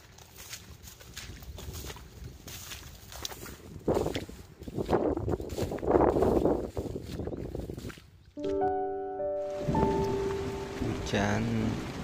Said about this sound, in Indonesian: Hujan ternyata turun lagi guys, lumayan deras.